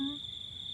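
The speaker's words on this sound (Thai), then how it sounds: "ฟังเสียงจิ้งหรีดร้อง" A steady high-pitched cricket trill rings continuously at night, fairly faint, with no other sounds around it.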